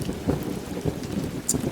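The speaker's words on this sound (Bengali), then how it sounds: "ঠিক এমন সময় হঠাৎ শুরু হলো ঝমঝম করে মুষলধারে বৃষ্টি" Heavy downpour with rolling thunder in an animated horror cartoon scene: a steady wash of rain with low thunder rumbles swelling at intervals and a brief bright crack near the end, no voices.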